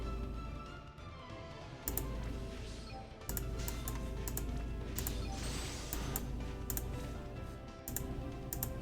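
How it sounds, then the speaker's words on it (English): Computer mouse clicks come in sharp, irregular bursts while playing Final Fantasy Brave Exvius, close and crisp over a low steady hum, with some clicks fast and clustered and others spaced apart. "so you'll be hearing those mouse clicks for very much longer"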